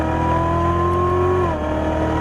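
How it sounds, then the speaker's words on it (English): A Chevrolet Corvette Stingray Z06 accelerating hard on a race track, its engine note climbing loud and close before a brief dip as it shifts, then pulling again. "Start squeezing on the throttle fast as you want down the street."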